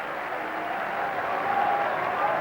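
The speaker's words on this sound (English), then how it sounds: "everybody stood applauding a wonderful performance" The cricket crowd at Lord's applauds an innings during a 1990 England v India Test, a broad, even wash of clapping that builds slightly in volume toward the end, heard from a distance as in a broadcast.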